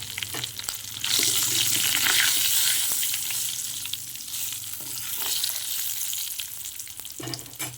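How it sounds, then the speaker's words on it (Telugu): Ingredients frying in hot oil in a pan after a half spoon of turmeric goes in, with a steady close sizzle that swells and eases, plus occasional stirring clinks, no talk. "ఆయిల్లో బాగా ఫ్రై అయిన తర్వాత హాఫ్ స్పూన్ పసుపు వేస్తున్నాను"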